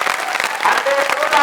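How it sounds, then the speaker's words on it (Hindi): Loud applause from a crowd at a tenth-class results celebration at a science academy in Gangapur City, honouring a Hindi teacher; dense steady clapping fills the short stretch with a voice faintly underneath. "जोरदार तालियां बजाई जाए सत्यनारायण जी शर्मा सर"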